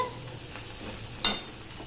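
Onions sizzle softly in a hot pan, with a brief scrape of stirring partway through, while cooking a Bata fish curry.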